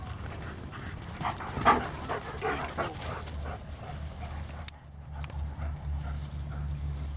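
A dog makes a few short whimpering yips and soft vocal sounds near the start, then quiet panting-like noise over a low steady hum.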